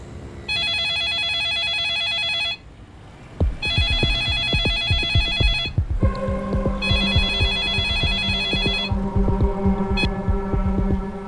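A telephone rings with a bright electronic tone for about two seconds, then a pulsing, throbbing rhythm of low beats and sustained tones follows.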